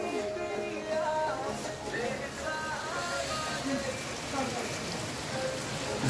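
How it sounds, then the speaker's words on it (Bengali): Steady rain falls on a hill-station outing at Elephant Falls in Shillong, a continuous close hiss of drops on surfaces, with people talking faintly in the background. "আজকে বৃষ্টি হচ্ছে।"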